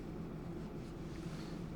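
Strong wind by the sea at sunset, a steady low roaring rush buffeting the microphone without pause.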